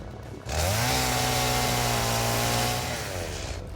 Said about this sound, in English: More chainsaw.